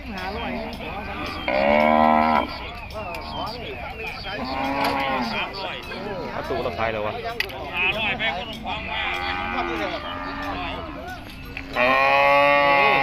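Cattle at a Thai livestock market moo repeatedly and loudly, long bellowing calls overlapping one another, while someone talks over a loudspeaker throughout.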